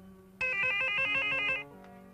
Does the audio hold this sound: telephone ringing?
yes